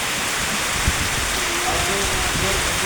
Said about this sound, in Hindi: तो देखिए बारिश कितना तेज़ी से हो रहा है।